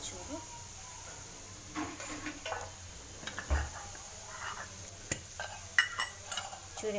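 Shredded cabbage for paratha is sautéed and stirred in a pan, giving soft, intermittent scrapes and clinks over a faint sizzle, with a voice speaking over it.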